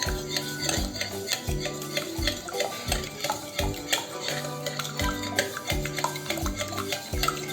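Eggs being beaten in a bowl for a coffee chocolate cake make steady, rhythmic whisking clatter, quick repeated taps against the bowl, close and fairly quiet, with no talking.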